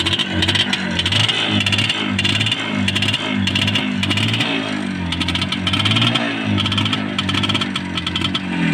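Izh Jupiter two-cylinder motorcycle engine running after a spark plug replacement, a loud, close, uneven two-stroke putter with rhythmic pulsing and slightly rough, labored firing.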